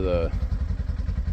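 A motorcycle rumbles along the road during brake burnishing, a low pulsing engine throb close by, with a short burst of voice at the start.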